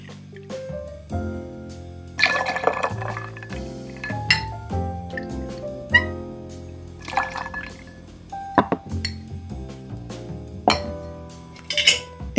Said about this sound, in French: Et vous allez mettre donc 7 centilitres de café.